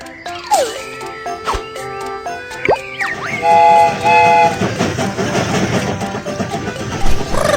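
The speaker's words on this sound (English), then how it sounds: "The train is about to start." A cartoon train sets off with whistle toots and chugging, clattering wheels, bright animated sound effects building from sparse bursts into a steady rolling clatter.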